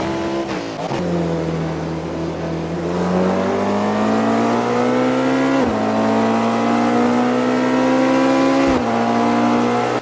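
Race car in a sim racing game lapping the Le Mans circuit, engine note climbing steadily through the gears with sharp drops at each upshift, loud and continuous.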